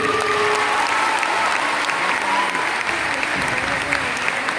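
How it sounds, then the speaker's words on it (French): An audience applauds a woman police commander in a sustained, even roar of clapping from a crowd, with faint voices mixed in. "On peut encore l'applaudir."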